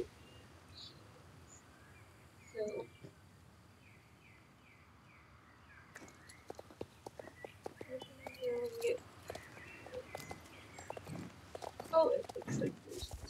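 A horse's hooves clop along at a walking pace in the video game Star Stable. The regular steps grow busier in the second half, with bird calls in the background and a person talking over them.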